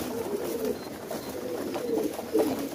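Green-eyed highflyer breeder pigeons cooing softly and repeatedly, several low throaty calls overlapping against faint background noise.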